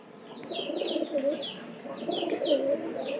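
Pigeons coo up close in two rolling bouts, each with a throaty, wavering call and a brighter overtone, and there is no talk.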